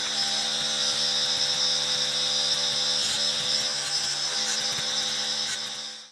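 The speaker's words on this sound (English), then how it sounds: "Let's try this power tool." A handheld power tool grinds or sands the rough edges of metal parts for a solar rack, running as a loud, steady continuous whine with an engine-like drone throughout, then cutting off at the very end.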